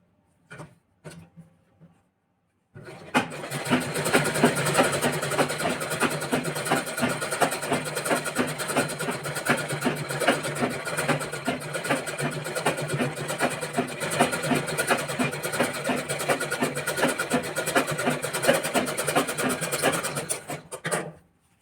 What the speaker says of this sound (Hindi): हम इस पर ये पट्टी रखकर इस तरह से सिलाई कर देंगे